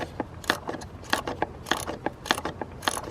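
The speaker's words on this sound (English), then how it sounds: "you could start trying to slide a 10mm ratcheting wrench" A 10mm ratcheting wrench clicks in quick repeated bursts while it turns the upper timing cover bolts on a VW 2.0T TSI engine. The ratchet sounds close and alone, with no talk.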